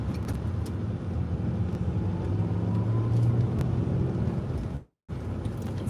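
A car drives along the road toward Gorleston, giving a steady low engine and road rumble heard from inside with some wind noise, continuous apart from a brief dropout near the end.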